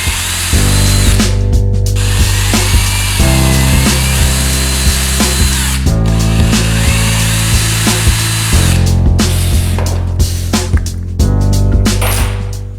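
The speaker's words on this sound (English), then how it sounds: "So I'm gonna pre-drill all these so they don't crack." A power drill whirs in repeated bursts, spinning up and biting into wood several times to pre-drill hinge screw holes, loud and close, with brief pauses between runs.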